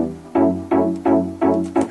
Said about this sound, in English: This is one sound from the ES2 synthesizer